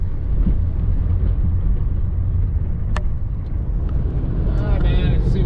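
A vehicle rolls down a road by Idaho's Salmon River, its steady low engine and tire rumble filling the whole stretch close and loud, with a few brief higher clicks and rattles near the end.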